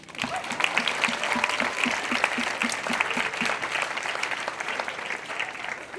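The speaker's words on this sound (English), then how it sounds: "Everyone, give them a round of applause." An audience at an elementary school fifth grade promotion ceremony applauds for the teachers, steady clapping from many hands lasting several seconds, with no talking.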